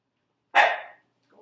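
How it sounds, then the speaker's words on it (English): A single sharp dog bark rings out alone against silence, followed by a faint trailing sound. "Go check on the dogs."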